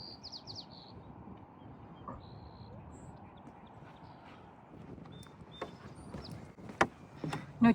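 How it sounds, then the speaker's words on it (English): Faint, scattered bird chirps and short calls rise over quiet outdoor ambience along a nature trail in Morro Bay, California. Soft footsteps or other low rustling sit underneath. "we'll see lots and lots of birds out there"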